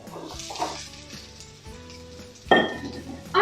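Carrots tossed into a pan of frying onions for a homemade quiche crackle and sizzle steadily, with a sharp clatter and a louder burst of frying about two-thirds through.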